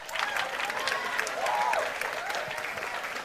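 Audience at a sermon-style talk clapping steadily throughout, a dense even patter with a voice faintly over it.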